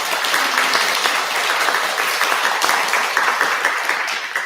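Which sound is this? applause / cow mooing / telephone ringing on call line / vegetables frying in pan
applause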